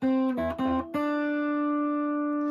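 A few short tuned guitar notes, then a single long E held steady and ringing evenly to the end, with no voices.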